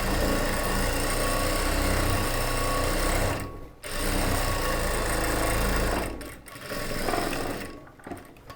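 A sewing machine stitches a churidar top in long, loud runs of rapid mechanical whirring, stopping briefly twice between bursts, with no speech.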